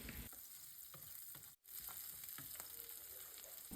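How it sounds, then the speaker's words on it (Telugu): Thinly sliced onions and curry leaves frying in a pan, a continuous close sizzle with occasional stirring scrapes, broken by a brief silent gap partway through. "ఇప్పుడు ఇందులో సన్నగా నిలువుగా కట్ చేసుకున్న ఉల్లిపాయ ముక్కలు కొద్దిగా కరివేపాకు వేసి ఒక థర్టీ సెకండ్స్ ఫ్రై చేసుకోవాలి"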